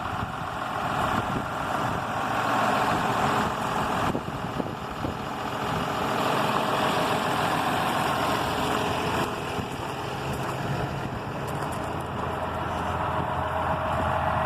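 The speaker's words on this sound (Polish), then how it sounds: "Ciągnik chodzi bardzo dobrze" A large diesel engine of a John Deere 6140R tractor runs steadily at idle, a continuous low rumble with a mechanical whine, close and unbroken.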